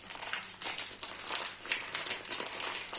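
Crinkly plastic packaging of a makeup headband from a Birchbox being torn open by hand without scissors, close, with continuous rustling and crackling in irregular bursts and no talk.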